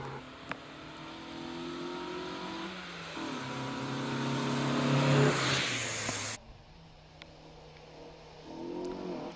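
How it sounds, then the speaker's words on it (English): Mid-1990s Mazda MX-5 at the Prescott hill climb, its engine revving up through the gears and rising in pitch, then cutting away sharply into quieter distant running. "This is an early-ish MX-5 from P-Reg."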